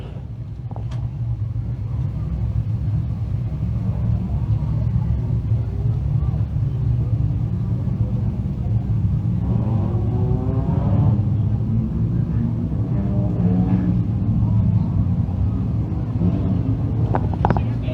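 Thunder Cars race cars rumble steadily at a speedway before a heat race, a continuous loud low engine drone filling the whole stretch with slight swells as they roll.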